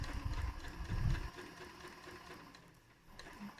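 An Elna Excellence 720Pro sewing machine stitches fabric, a faint, quick mechanical whirr for about a second, then a softer lingering motor hum.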